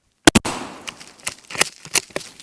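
Rifle fired with iron sights at a target outdoors in winter: a sharp, loud double crack right at the start, followed by a string of fainter, scattered knocks and taps, with no talking.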